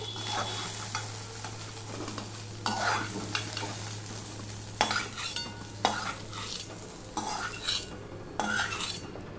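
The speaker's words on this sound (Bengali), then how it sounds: "দেখো ভেন্ডিগুলো মোটামুটি ভাজা হয়ে গেছে" Okra fries in a pan of oil, a soft, continuous sizzle broken by repeated louder scraping bursts as a utensil stirs the pieces, with a low steady hum underneath.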